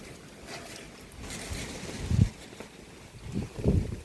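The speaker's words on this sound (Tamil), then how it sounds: "அப்படியே காற்றோட சாரெல்லாம் அடிச்சிட்டு இருக்கு. நல்லா காற்று." Gusting wind buffets the microphone during heavy rain on a farm, a steady rushing roar with two stronger low gusts swelling near the middle and end; no one speaks.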